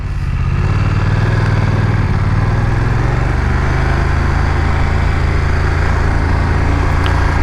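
A BMW F900 XR motorcycle engine runs loud and close, a dense, steady roar that holds throughout without pause.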